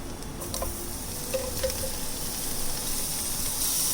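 Spices with turmeric and garam masala stirred in a pan for dhaba-style palak paneer, giving a steady close sizzle with occasional scrapes and no voices.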